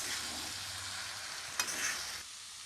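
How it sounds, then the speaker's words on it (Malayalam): Chicken noodles tossed with masala are stirred using two spoons in a hot pan, a close sizzle with soft scraping, one sharp clink of the spoons midway, and the frying noise dropping off near the end. "ഇനി ഇത് നന്നായിട്ടൊന്ന് എല്ലാം കൂടി ഒന്ന് യോജിപ്പിച്ചെടുക്കണം"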